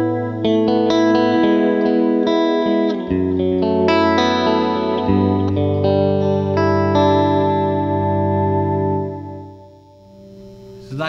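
An electric guitar plays shimmering chords and single notes through a lush chorus effect, ringing out and fading near the end.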